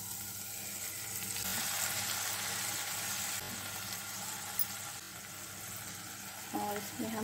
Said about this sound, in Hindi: और अभी मैं इसमें ये दलिया डाल दूँगी।